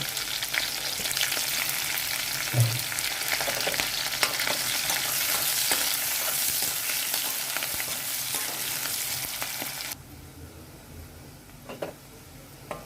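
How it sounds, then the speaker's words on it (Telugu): Onions, green chillies and curry leaves fry in hot oil with a dense, steady sizzle and a few utensil knocks, and the hiss drops sharply near the end to a quieter crackle. "ఉల్లిపాయలు, పచ్చిమిరపకాయలు ఫ్రై అయిపోయినాయండి"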